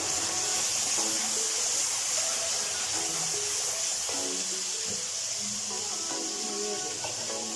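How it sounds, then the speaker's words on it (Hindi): Water poured into a cooking pot of deghi-style palak gosht gives a steady, fairly loud hiss and splash lasting the whole stretch, with faint clinks in the background. "ये देखेंगे यहाँ पर हम थोड़ा सा पानी ऐड करेंगे"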